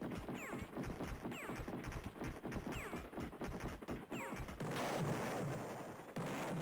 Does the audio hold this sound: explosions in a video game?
yes